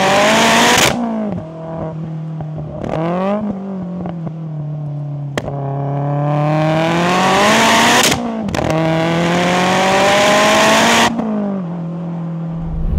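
A 460bhp VW Mk2 Golf G60 Rallye with a heavily modified engine pulls hard from inside the car, loud revs climbing and dropping through several gear changes with sharp shifts between long rising surges.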